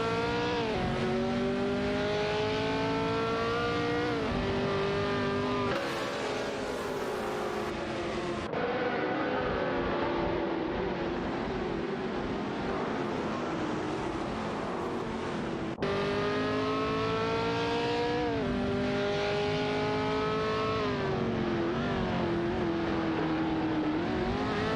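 Race cars in an AI racing video game: continuous loud engine whine with rising and falling pitch as gears shift, overlapping cars and occasional tire squeal, a few abrupt cuts between camera views, no voices.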